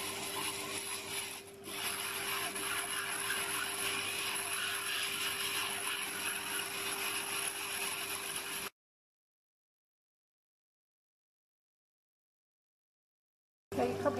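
A glass grinder works the edge of a fused glass scenic piece to an even bevel, a steady continuous whirring grind with a brief dip early on, then stopping abruptly into silence before resuming briefly at the end.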